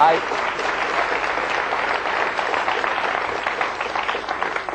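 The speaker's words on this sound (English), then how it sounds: "I see Bernie giving a round of applause for that" Studio audience at a 1984 Irish television chat show applauds steadily, a dense, even patter of clapping that holds for several seconds at moderate level with no voices over it.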